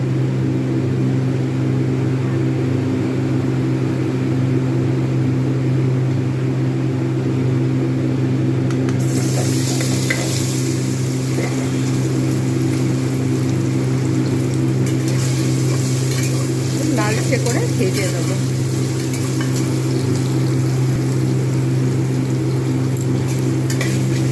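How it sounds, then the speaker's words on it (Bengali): Paneer frying in hot oil: a low steady hum runs throughout, then a bright crackling sizzle bursts in partway through and keeps spitting, with stirring flare-ups later on. "একটু গরম হলে আমি আগে প্রথমে পনিরটাকে ভেজে নেবো ভালোভাবে"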